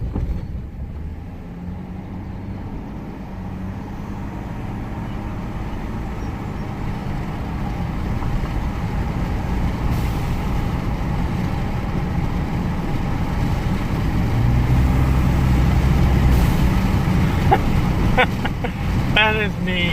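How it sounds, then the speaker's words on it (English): A turbocharged Ford F-150 EcoBoost engine with modifications runs with a low, continuous rumble that swells toward the end, while someone talks over it. "I definitely like hearing the turbos more. That's definitely a lot cooler sounding."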